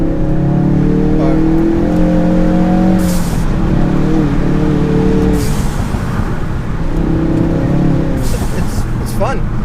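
A Ford Focus RS or Honda Civic Type R driven on backroads, its engine rising and falling in loud revving pulls that recur in rising tones, with people talking in the car.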